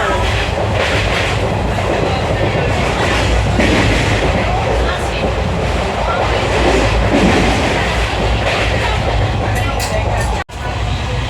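A moving train rumbles steadily from inside a nearly empty carriage, with rhythmic rattling and clatter of the wheels throughout and a brief dropout near the end.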